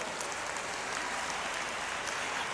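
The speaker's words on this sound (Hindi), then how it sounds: "आइए जोरदार तालियों से हम स्वागत और अभिनंदन करें" Loud, dense applause from a large audience at a public ceremony in Madhya Pradesh welcoming Home Minister Amit Shah, a steady unbroken roar of clapping across the whole stretch.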